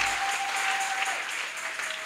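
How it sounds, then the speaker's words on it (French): Steady applause from a church congregation, dense and even clapping filling the whole moment at moderate loudness. "Nous applaudissons pour Jésus-Christ."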